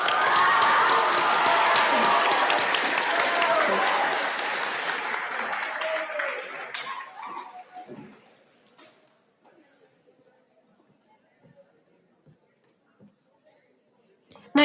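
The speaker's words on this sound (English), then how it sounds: "Please give your students a round of applause." Loud applause and cheering for students at a school promotion ceremony, dense clapping with shouts and whoops from a crowd that gradually thins out and dies away into a quiet room with scattered noises.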